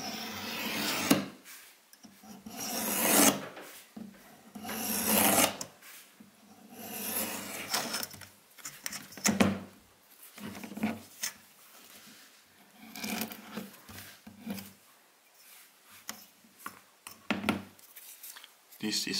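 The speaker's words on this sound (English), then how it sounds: "let's quickly make some cuts in some leather" A brass knife cuts 1.5 millimeter leather in repeated rasping, scraping passes of uneven length, close up and moderately loud, with soft talk in the background.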